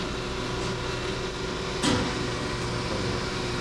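A Marvel-Spartan 13" x 14" horizontal bandsaw cuts through stock with a steady, even mechanical hum, and a brief surge swells near the middle of the cut.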